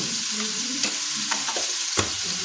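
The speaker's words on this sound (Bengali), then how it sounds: "এটাকে আমরা হাতা দিয়ে ভালোভাবে নাড়িয়ে নেব" Mixed vegetables for a homestyle labra with lentil dumplings fry and sizzle as a ladle stirs them, producing a steady close hiss with soft scraping strokes throughout, no voices.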